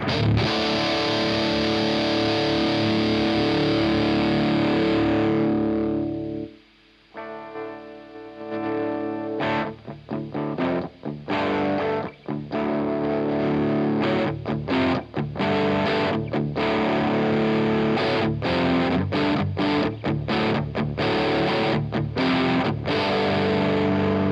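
Electric guitar chords played through a DigiTech Death Metal distortion pedal, loud and sustained with a brief drop in level as the guitar volume is rolled off, then choppy, cleaner-sounding strummed passages.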